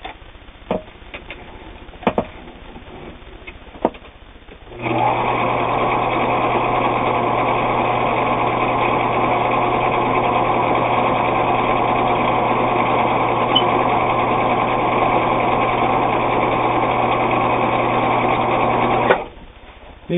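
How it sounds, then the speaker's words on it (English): A Husqvarna Viking Optima 150 sewing machine runs a zigzag stretch stitch, starting after a few light clicks and then whirring at a steady, loud, even hum for about fourteen seconds before it stops. "Do a zigzag stretch stitch."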